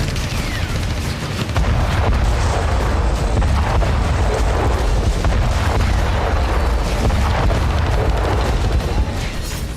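HQ-17 surface-to-air missile launch during a Chinese war rehearsal in below-freezing cold: a continuous loud roaring rumble with blasting bursts, sustained and close throughout.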